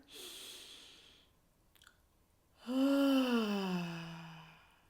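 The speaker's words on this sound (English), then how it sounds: "Let's take one deep breath." A slow, deep breath during a breathing exercise: an audible inhale, a pause, then a long voiced sigh as the air is let out, close and clear with no speech.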